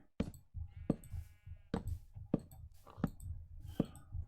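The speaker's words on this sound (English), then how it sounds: "Hello, sheep." A Minecraft sheep bleats several times in a row, short nasal cries spaced about half a second apart with soft clicks between them, heard alone and fairly close.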